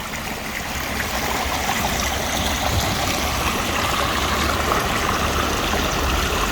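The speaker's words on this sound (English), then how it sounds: "you're right next to a creek, Baskins." A steady rush of flowing water from Baskins Creek in Gatlinburg, Tennessee, continuous and fairly loud, with bright trickling and gurgling over a broad hiss, no voices.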